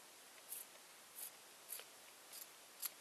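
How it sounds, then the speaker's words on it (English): Scissors snip through the necks of rubber balloons in five crisp, evenly spaced cuts, quiet and close against a faint background hiss. "take your balloons and cut off the neck"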